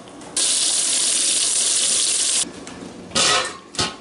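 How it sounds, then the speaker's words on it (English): Water in a hot water bath canner heats toward a boil, giving a steady close hiss for about two seconds, then shorter bursts of rushing, bubbling water. "my hot water bath canner is coming to a boil"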